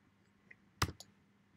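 A single sharp mouse click when running a cell in a Jupyter notebook, near and brief, with a faint second tick just after against a quiet background.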